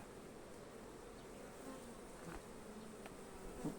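Honey bees at a hive with frames of rapeseed honey fill the air with a dense, steady buzzing swarm drone, close and constant, with an occasional louder bee passing near.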